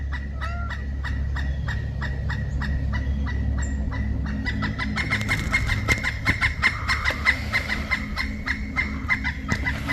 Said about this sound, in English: Pileated woodpecker.